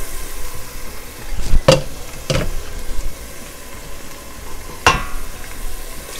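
Rice added to a hot pan of fried ginger-garlic paste for saffron rice, under a low sizzle broken by a few sharp scraping stirs and clatters of a spoon.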